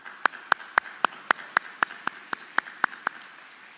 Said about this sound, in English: So big round of applause for your parents.